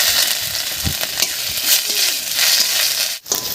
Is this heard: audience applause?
no